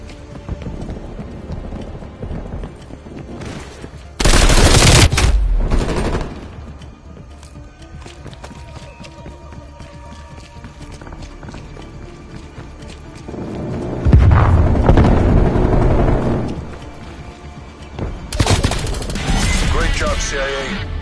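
A turret machine gun fires in Call of Duty Cold War. There are three loud, dense bursts, each lasting a second or two, set against a busy battle background that carries ongoing game sounds.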